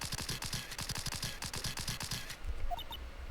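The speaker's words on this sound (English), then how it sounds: "My perfectly gunshot sounding party popper." A party popper going off at a Christmas gathering, a sharp crackling string of quick gunshot-like pops, quiet and fairly close, then fading into a hush with faint chimes.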